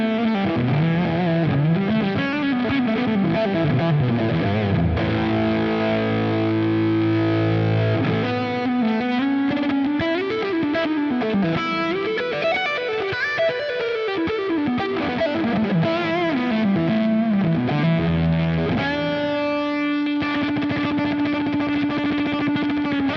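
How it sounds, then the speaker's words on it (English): Big Muff-style fuzz tones from a Line 6 Helix, a heavily distorted electric guitar playing sustained chords and bending melodic lines with thick, saturated sustain, heard alone without talk. "I think there's some great fuzz tones to be found in the Helix."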